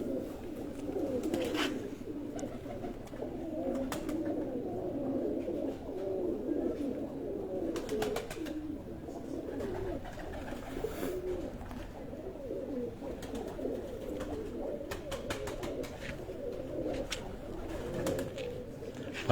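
Pigeons coo continuously at close range, a low rolling, overlapping murmur from several birds with faint clicks and movement in the background and no clear talk.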